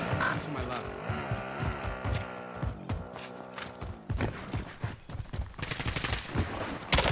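Rapid bursts of automatic gunfire in Call of Duty Warzone, dense and loud, crackling through most of the stretch with heavier clusters toward the end, mixed with game ambience and a talking player.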